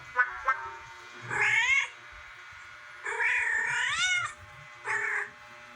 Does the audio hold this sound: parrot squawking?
no